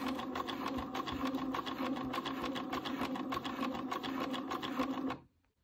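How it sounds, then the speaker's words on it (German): A sewing machine stitches close topstitching around a sleeve seam on yellow fabric, a steady rapid whirring hum running for about five seconds before it stops abruptly. "Zum Schluss wird nochmal ringsherum knappkantig genäht."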